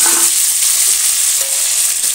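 Whole cumin, slit green chillies, tomato and onion frying in hot oil in a pan give a steady, loud, close sizzle with light stirring throughout.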